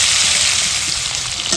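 Soft young jackfruit pieces fry with salt and turmeric in oil, giving a brief, fairly loud, steady hiss of sizzling, close by and without speech.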